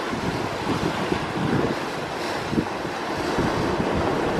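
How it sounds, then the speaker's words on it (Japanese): Gusty wind buffeting a microphone on a fishing boat at sea off Okikuroshima near Yonozu, Saiki, Oita, during evening fishing: a constant roaring rumble with surges, mixed with the wash of waves and no talking. "多分風の音が入ってると思うんですけどね"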